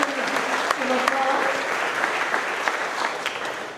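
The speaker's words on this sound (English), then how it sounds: "Let's give these guys some applause." A company gathering at Melton Truck Lines' monthly celebration breaks into applause: dense, steady clapping from a crowd indoors that carries evenly to the end, with a few voices mixed in underneath.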